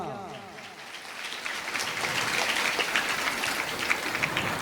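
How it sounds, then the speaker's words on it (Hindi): Loud applause rises from a crowd honouring saints at a Ram Katha gathering, a dense patter of clapping that swells after a moment and carries on to the end. "हमारे इन संतों के लिए एक बार जोरदार की तालियां।"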